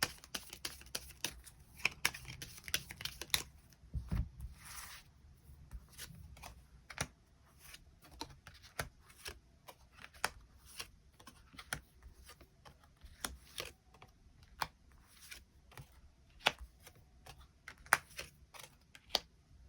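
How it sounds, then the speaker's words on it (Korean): Tarot cards are shuffled and drawn close up, giving a long run of soft, rapid riffles, flicks and light taps, quiet and irregular, with no talking. "추가 카드로 일별로 월요일부터 일요일까지 어떤 하루하루를 보내게 될지 추가 카드 뽑아보도록 하겠습니다"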